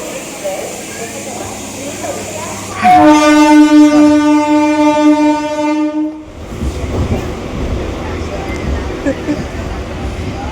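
A loud, sustained passenger train horn blasts for about three seconds, then the rumble and rattle of the passing train continues amid background voices.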